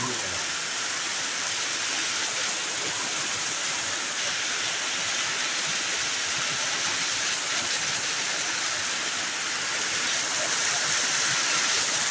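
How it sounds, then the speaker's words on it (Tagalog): Heavy rain from Typhoon Krathon pours steadily in Upper Irisan, Baguio City, with a dense, unbroken hiss, constant and loud throughout. "malakas na ulit ang ulan there"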